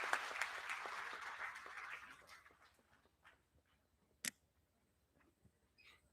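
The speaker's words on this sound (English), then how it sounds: "Can we give a huge round of applause?" A school audience at Seth M.R. Jaipuria School in Gomti Nagar, Lucknow, claps for a little girl. The faint applause fades out over about two seconds, leaving near-silence with a few scattered ticks and taps.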